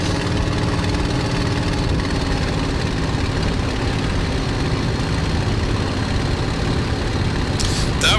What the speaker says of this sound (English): So we're airborne, gear up, flap up.